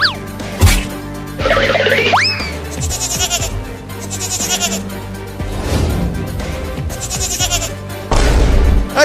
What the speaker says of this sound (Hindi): अरे वो बकरी का बच्चा मेरे खेत में आ रहा है मेरा लालमी खाने